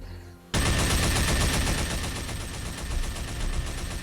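A hammerjack massage gun fires in a video game, starting abruptly and then running as a loud, continuous rapid hammering burst that goes on without a break.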